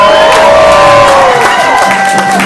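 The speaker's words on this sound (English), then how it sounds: "You're supposed to cheer after that." Rally crowd cheering and whooping loudly up close, a continuous wash of voices with rising and falling shouts and scattered claps.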